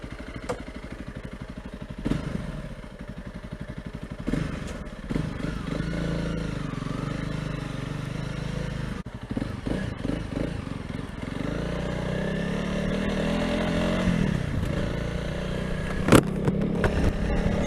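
Honda CRF300 Rally motorcycle being ridden, a continuous engine drone with wind and road noise, rising revs and occasional knocks and rattles, no speech heard.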